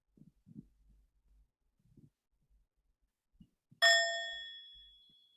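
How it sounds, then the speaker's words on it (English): A single meditation bell struck once during a memorial gathering, ringing out clearly with a long, slowly fading tone after a stretch of faint, scattered low sounds. "So as we listen to the sound of the bell, we come back to our breathing."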